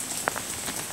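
Heavy pouring rain in Fort Walton, a steady soft hiss of water on surfaces with a few sharper drops standing out, alone and fairly quiet.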